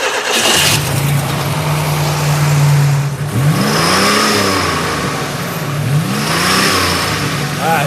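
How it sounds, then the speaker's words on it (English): A hot rod's engine, a Grand National project car, cranks and fires up, then roars loudly with two rising revs that fall away, close and dominant, with no talk over it. "So I'm gonna fire it up right now and just spool it I'll up."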